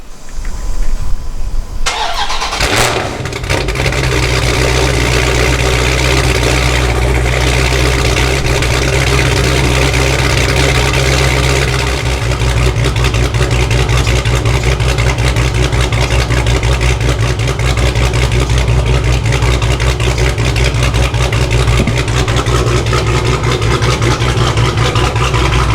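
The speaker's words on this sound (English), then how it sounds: "I'm gonna do a cold start in this because it hasn't been turned on in a week." Lifted truck's engine cold-started after sitting unused for a week: brief cranking, then it catches and settles into a loud, steady idle that holds a low throbbing rumble for over twenty seconds, no voices.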